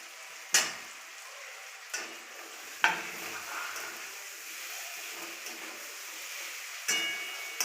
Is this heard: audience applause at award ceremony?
no